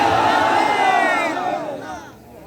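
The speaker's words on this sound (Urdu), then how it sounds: "بچہ آج لبیک یا رسول اللہ کے نعرے لگا رہے ہو" A crowd at a religious gathering in Sharqpur Sharif chants Labbaik Ya Rasool Allah slogans, a loud, dense roar of massed voices that holds steady, then fades away toward the end.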